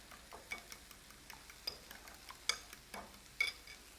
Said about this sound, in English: Break those yolks up real good.